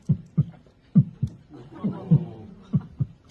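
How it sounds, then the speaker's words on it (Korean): A deep, muffled heartbeat thumps in a steady lub-dub rhythm, about eight beats, close and booming with a low rumble between them. "심장 소리가 귀에 들려오고"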